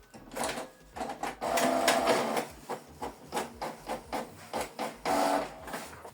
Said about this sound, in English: So print test page